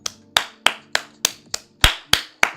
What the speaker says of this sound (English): round of applause to him.